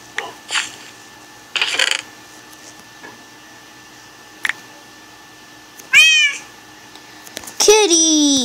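A cat named Senior Kitty meows in a game-playing session, two clear rising-falling cries near the end, preceded by scattered clicks, rubs and short bursts of handling noise in a quiet room.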